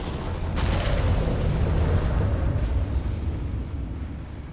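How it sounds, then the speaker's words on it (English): A reactor-like core being destroyed in Elder Scrolls Online erupts in a deep, sustained rumbling explosion that swells quickly and roars loudly for several seconds before slowly easing off. "Quick, my friend! Destroy the core!"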